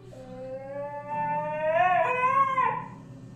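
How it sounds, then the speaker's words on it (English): A husky lets out one drawn-out howling scream that rises and wavers in pitch, then breaks off in a higher cry, close and loud with no talk over it. "Screaming Husky."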